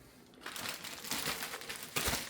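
A plastic bag crinkles and rustles up close as a steak is packed into it, a dense crackling burst lasting about two seconds.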